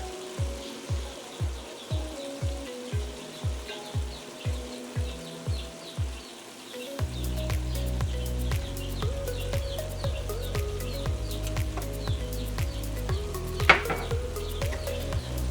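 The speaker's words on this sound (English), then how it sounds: "We're just going to stir that all together, and then we're just going to wait until the ground beef is completely cooked through" Ground beef and onions with cumin, salt, black pepper and garlic powder sizzling in a pan, a soft steady frying hiss under a regular rhythmic thumping at first, then busier clinks and scrapes of stirring utensils against the pan.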